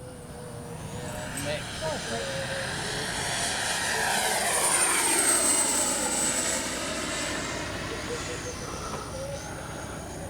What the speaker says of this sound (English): Oh, that's a great sounding little jet.